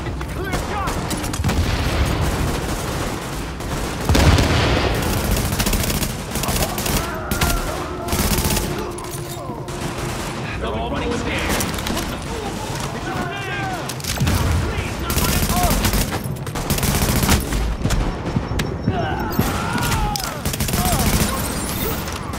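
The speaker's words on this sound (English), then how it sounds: "Party's taking heavy fire from the roof." Heavy automatic gunfire pours down from a rooftop gunner during a firefight in The Division, dense bursts and booms continuing loudly throughout with a radio voice speaking over the shooting.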